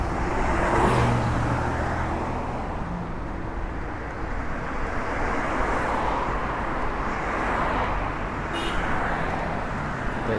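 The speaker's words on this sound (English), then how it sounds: "There's so many cars over here on Olympic Boulevard" Busy car traffic on Olympic Boulevard in Beverly Hills, a dense steady roar of passing vehicles that swells and fades, loud and continuous with no talk.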